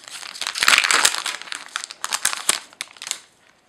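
Foil wrapper of a Pokémon card booster pack being torn open, a close, busy run of crinkling and tearing bursts that fades out at the end, with no talk.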